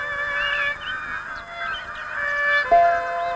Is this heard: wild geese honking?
yes